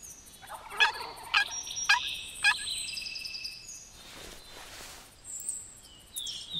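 Wild turkeys gobble in a hunting setting, with several sharp, rattling calls close together in the first few seconds and softer bird sounds continuing afterward, all heard without any talk.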